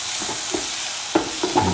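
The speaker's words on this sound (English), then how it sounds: "Now scramble the egg" Egg being scrambled in a hot frying pan: a steady, loud sizzle with a few scraping stir strokes breaking through near the end, close up and with no voices.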